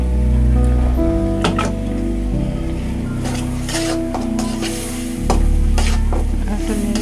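Spices and red chilli sizzle and hiss as they are stirred and scraped in a hot pan while cooking a vegetable dish with small shrimp. A steady, close frying sound runs throughout with irregular stirring clatter.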